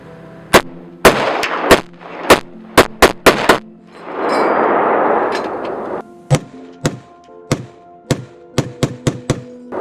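Sharp, loud rifle gunshots crack out one after another at night, some in quick bursts, with a burst of rushing noise in the middle.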